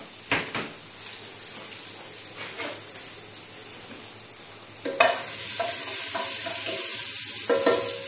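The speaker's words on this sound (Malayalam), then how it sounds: "വെളിച്ചെണ്ണയ്ക്ക് ശേഷം ആദ്യമേ ഇടേണ്ടത് വെളുത്തുള്ളി" Garlic fries in coconut oil for a beef curry, a steady sizzle with occasional stirring scrapes and clinks, rising louder midway as the pan heats up.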